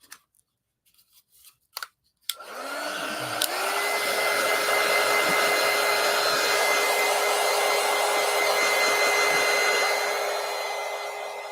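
A hair dryer runs steadily and loud close by for about nine seconds, blowing on wet paint on a collage, after a few brief handling clicks and taps.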